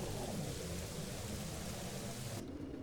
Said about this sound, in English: I can hear rain now